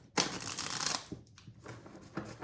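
A deck of tarot cards is shuffled for a reading in a quick, close, papery riffle that fades, followed by softer shuffles.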